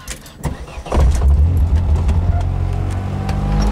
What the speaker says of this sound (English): I'm going to show you guys what a bad alternator bearing sounds like